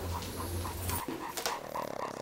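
A dog pants close by in a quick, steady rhythm of short breaths, with a faint whimpering tone between them and no talking.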